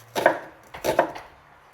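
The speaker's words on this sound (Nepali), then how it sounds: "अब चाहिँ प्याज काट्नु पर्यो।" Knife chopping onion on a cutting board: two quick clusters of sharp, close taps, each a few crisp cuts, in a quiet room.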